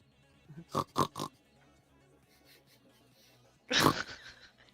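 A person imitates a pig with voiced snorts and oinks: three quick grunting bursts, a pause with faint breathy sounds, then a louder drawn-out snorting squeal, close and without other talk.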